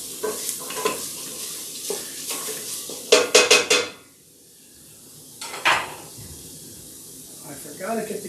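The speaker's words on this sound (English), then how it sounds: "While those onions cook just a little bit more." Onions sauté in a pot for tomato basil soup, with a soft sizzle, intermittent stirring scrapes and a burst of metallic clinks partway through, then quieter cooking.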